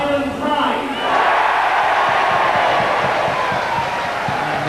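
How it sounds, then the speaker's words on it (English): Stadium crowd at the St Helens rugby ground cheers loudly and continuously at an evening match, a dense roar of many voices that swells and holds without breaks. "the biggest cheer of the evening at St Helens is for what's happening at the Knoll"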